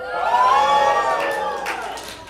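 A crowd at a mosque volunteer appreciation dinner cheers and whoops loudly, a dense swell of voices that peaks early and then slowly tapers off.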